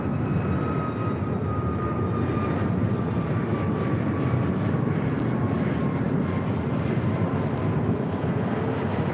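Southwest Airlines Boeing 737 MAX 8 jet departing LAX, a steady broad engine roar with a faint whining tone, continuous and moderately distant, with no voices.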